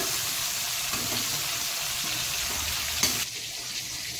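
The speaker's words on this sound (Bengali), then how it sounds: "চিংড়ি মাছগুলো ভাজা হয়ে গেছে বেশি ভাজবো না অল্প" Small canal prawns fry in oil in a home pan, giving a steady, close broadband sizzle throughout, with a brief clatter near the end before the hiss settles slightly quieter.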